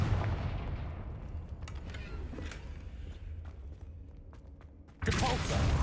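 A spell being cast in the Hogwarts Legacy video game, a loud game effect with a sustained rumbling blast that swells again near the end over steady low game noise.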